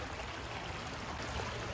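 Water of the West River in Rhode Island flowing along a trail, a steady close rushing wash that stays even and unbroken for the short stretch.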